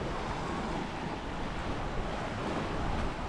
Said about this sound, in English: Oh, it's a little bit windy here.